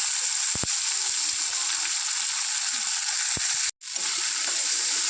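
Fish, garlic and onion frying in hot oil, a steady loud sizzle with a few sharp pops and a brief drop out near the end, without any talk.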